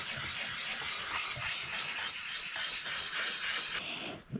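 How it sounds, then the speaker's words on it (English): Steady wet-sanding strokes across a painted fiberglass bike fender, a continuous close rubbing hiss with faint rhythmic scrubbing that ends abruptly near the finish. "It's so quick too, wet sanding."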